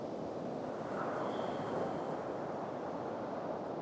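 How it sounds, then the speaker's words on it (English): Ocean surf at sunrise washes in as a soft, continuous roar of waves, steady and moderately distant, with some wind rumble and no speech. "just tuning into the sound of the ocean or to the sound of your breath"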